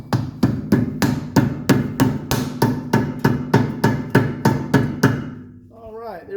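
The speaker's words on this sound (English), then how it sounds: "we'll put this back on here and tap it on with a rubber mallet" Rubber mallet tapping a grease cap onto a wheel hub of a 1985 Mercedes 300D, about sixteen quick, even, close knocks in a steady rhythm, followed by a short voice at the end.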